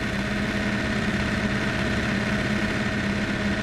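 A car engine idles steadily in the BeamNG Super-GT mod, with a rattly quality: a continuous, fairly loud low hum with a dense, rough texture that holds constant from start to finish, with no talking.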